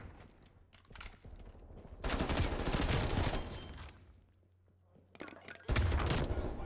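Automatic gunfire in the video game Black Ops Cold War comes in two loud, sustained bursts with quieter shots between them, close and dense, over a steady low hum.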